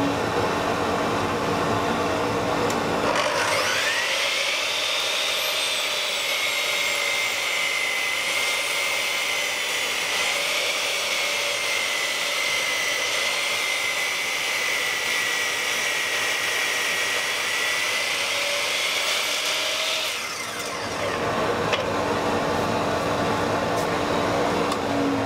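A power saw cuts wood at a 6-degree angle with a vacuum running: a loud, steady whining roar starts abruptly, holds evenly for about seventeen seconds, then cuts off, close and alone.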